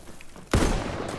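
A sudden burst of gunfire erupts midway in Battlefield 1 multiplayer combat, loud and close, then a sustained rattle of shots continues to the end with no talking.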